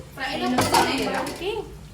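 A metal kadai is set down and a pot swapped onto the stove while sambar is being made, giving a short sharp clank and scrape, with someone talking over it.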